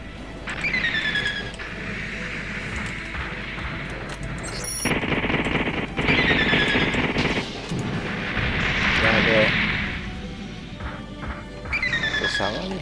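Artillery bombardment in the online Gundam game at Jaburo, heavy shelling and gunfire bursts churning loudly and continuously with crashes and squealing whines, a voice talking over parts of it.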